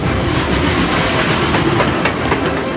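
A train on a historic scenic railway near Carlisle rolls steadily along the rails with a loud continuous rumble and faint rhythmic clacking throughout.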